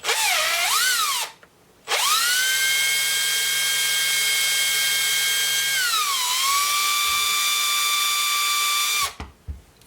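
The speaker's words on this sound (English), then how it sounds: "with the battery drill, make sure it's in reverse" A battery drill running in reverse through soft cork whines steadily at close range, pitch dipping and rising, stopping briefly, then running again for several seconds before cutting out.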